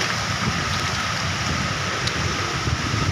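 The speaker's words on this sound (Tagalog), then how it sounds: "O ito, binabagyo pa tayo ni bagyong Christine" Heavy typhoon rain from Typhoon Kristine pours down in a dense, steady roar over Vinzons, Camarines Norte, with gusty wind underneath and no talking.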